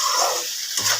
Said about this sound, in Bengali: চিংড়ি মাছের মালাইকারির ভাজা চলছে, প্রচুর জল বেরিয়েছে।